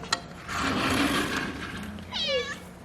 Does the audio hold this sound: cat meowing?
yes